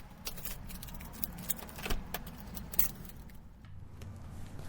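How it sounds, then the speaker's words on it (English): Keys jangle nearby in a few quick metallic rattles while a car hums steadily underneath, with no talking. "Forgot my keys."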